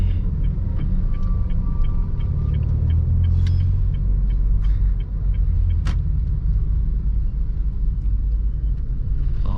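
A manual car drives along after an upshift, giving a steady road rumble and engine drone from inside the cabin, with faint regular ticking and no one talking.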